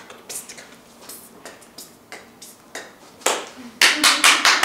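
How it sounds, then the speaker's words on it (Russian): Scattered hand claps on a prank casting set, starting as sparse single claps and building into a louder, denser burst of clapping near the end, with no talking. "Аплодисменты."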